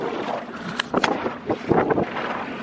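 Gusty wind batters a small fishing boat out trolling for salmon on the long Pihlajavesi lake, with irregular rushing gusts and buffeting bursts close to the microphone and no talking.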